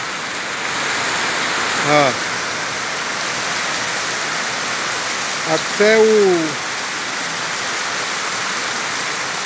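Heavy rain and rushing floodwater on Avenida Evência Brito in Ribeira do Pombal, Bahia, form a dense, steady hiss throughout. A voice cuts in briefly twice.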